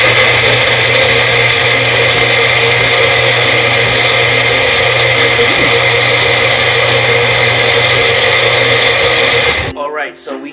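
A blender runs loud and steady, whirring through strawberry green tea for bubble tea for about ten seconds before cutting off abruptly, leaving a quiet kitchen room tone.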